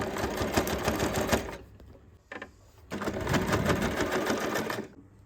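A sewing machine stitches bias binding onto a Japanese-style slouchy tote bag in two fast, steady runs separated by a short pause, loud and close.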